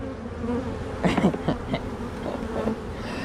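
Agitated honeybees swarm around an opened hive during inspection, a dense close buzzing with individual bees sweeping loudly past, no voices.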